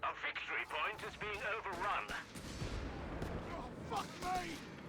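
Shots from a British 2-pounder anti-tank gun and other battle fire ring out in the strategy game Company of Heroes 3, mid-loud blasts mixed under continuous excited commentary.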